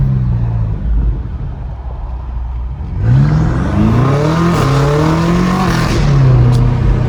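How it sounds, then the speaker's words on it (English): A straight-piped BMW M5 Competition idles with a low burble, then revs hard and climbs through several gears with a loud, raw exhaust roar, shifts audible as breaks in the rising engine note. "this car sounds freaking amazing"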